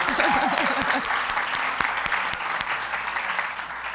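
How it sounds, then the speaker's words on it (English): A Sunday service congregation claps in a round of applause for a long-serving senior minister, steady, full-room clapping while a voice speaks briefly over the start. "we can give him a round of applause for that."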